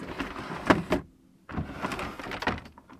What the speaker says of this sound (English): that door catches, but anyway, you see that they open